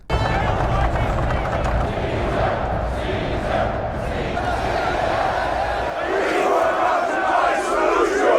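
A roaring crowd fills the Colosseum in a gladiator film, a loud, dense wall of cheering and shouting that runs without a break and swells slightly toward the end.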